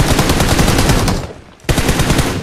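Rapid automatic gunfire from the Livik map of a battle-royale video game, a dense machine-gun burst that breaks off briefly and then resumes, loud and close, with no talk over it.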